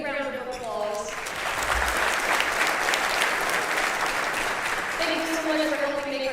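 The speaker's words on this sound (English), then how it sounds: "Let's give everybody a big round of applause." Audience applause at a county government State of the County address, a dense sustained clapping from a large crowd lasting several seconds, with a speaker's voice heard briefly before and after.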